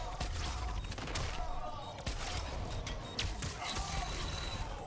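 A smart bomb attack from the fighting game Mortal Kombat X: dense, continuous bursts of rapid crackling impacts and mechanical clatter that keep up for several seconds with sharp spikes throughout.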